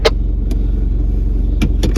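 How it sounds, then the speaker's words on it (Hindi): A car engine idles and rumbles steadily at night off-road during a deer hunt in Australia as the vehicle turns around, with a few brief clicks and rattles over the low drone. "मैं गाड़ी घुमा ही रहा हूँ"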